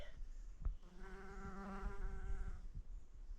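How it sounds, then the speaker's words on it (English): A bumblebee buzzes around wildflowers beside a trail near a waterfall, its harmonic drone rising for a couple of seconds over quiet outdoor background. "There's Mr. Bumblebee."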